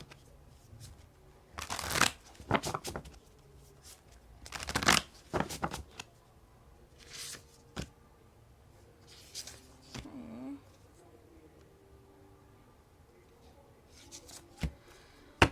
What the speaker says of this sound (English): I'm going to pull 3 cards from this deck.